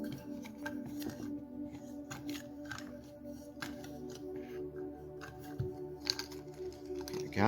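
Small lockpick tokens are shaken and shuffled inside a chalice, giving a quiet, continuous clatter of light clicks and rattles with a few brief sharper knocks.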